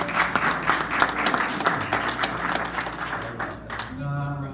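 A Portuguese-speaking Baptist church congregation claps together in a dense, steady round that fades toward the end, where a voice and musical tones come in.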